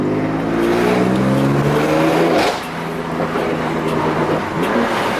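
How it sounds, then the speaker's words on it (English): A Toyota Supra on its stock exhaust revs loudly on the street, the engine note climbing steadily as it accelerates, then dropping after a brief break and droning on at a lower, even pitch. "The exhaust, I can't believe this is a stock exhaust"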